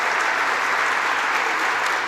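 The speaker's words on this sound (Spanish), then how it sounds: "les pido que a todos le demos un fuerte aplauso de reconocimiento" Applause from a forum audience for an artificial intelligence panel at Casa de Campo, a loud, dense and unbroken roar of many hands clapping, even and sustained with no talking over it.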